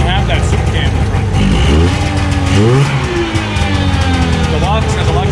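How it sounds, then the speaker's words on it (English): An Arctic Cat 340 Jag snowmobile engine with a tuned exhaust whines loud and close, its pitch sweeping up and down through repeated revs, with a deep exhaust rumble underneath. "Got that Arctic Cat whine. It's got a tuned exhaust."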